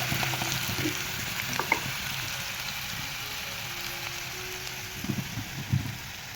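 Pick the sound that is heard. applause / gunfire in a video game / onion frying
onion frying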